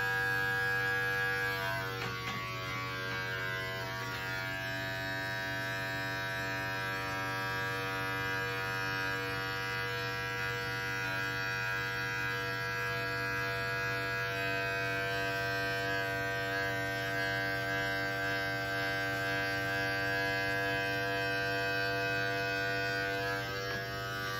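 Electric hair clippers buzz steadily and close by while trimming the neckline during a self-haircut, a continuous motor hum with no speech.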